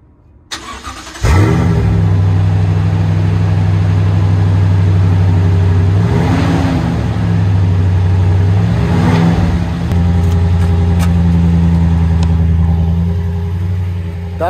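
A truck engine runs close and loud with a steady, heavy idle, rising into a couple of brief revs before settling back, with no talk over it.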